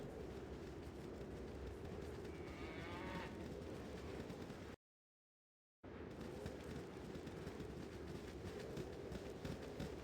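A cow in the Baldur's Gate video game gives a drawn-out moo, fairly faint over steady background noise, followed by a brief dropout of silence.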